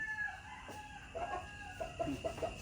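A Golden Kelso gamecock rooster crows nearby, a clear drawn-out call followed by a few short clucking notes, with no talking over it.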